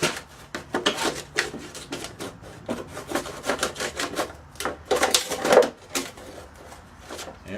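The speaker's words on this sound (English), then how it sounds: "And now I'm going to cut around this plant, this pot." Cutting around a plastic bottle used as a plant pot makes a series of close, uneven scraping and crackling snips, rising and falling in short rough bursts with no talk.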